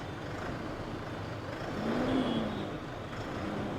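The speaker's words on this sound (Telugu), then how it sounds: "కమర్షియల్ ట్రక్ స్టార్ట్ చేసేటప్పుడు ఆ వైబ్రేషన్ వేరే లెవెల్లో ఉంటుందన్నమాట చాలా బాగుందండి ఇంజన్ సౌండ్ అయితే" An Ashok Leyland Partner LS commercial truck engine runs at idle, a steady close rumble with a faint tonal whine swelling briefly midway.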